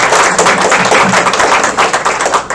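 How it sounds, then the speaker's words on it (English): Loud, close applause at a college honors night for veterans, rapid dense clapping with some heavier thumping hits, sustained without pause throughout. "Let's give a round of applause for our veterans"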